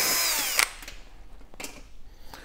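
A power screwdriver whines steadily, backing a screw out of an oven panel, then cuts off abruptly, followed by a few faint handling clicks.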